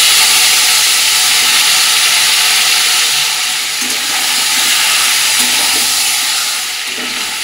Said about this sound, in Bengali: ওই তেলের মধ্যে আমি এক এক করে চিকেনগুলো দিয়ে দেবো